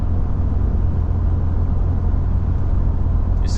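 A Ford F-150 EcoBoost with an AWE exhaust and SPD resonator cruising at highway speed, a steady low engine and road rumble heard from inside the cab, constant and even with no drone or talk.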